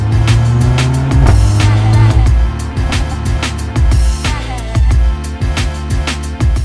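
Mercedes A45 AMG with a 2-litre 380 hp engine, its exhaust rumbling loudly up close with repeated sharp pops and crackles over a deep idle and revving drone.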